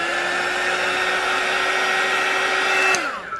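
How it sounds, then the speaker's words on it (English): A heat gun blows steadily over resin, a loud close whine with a constant tonal hum that holds for about three seconds, then winds down as it is switched off. "I've just got my heat gun ready and I'm just going to give it a quick once over"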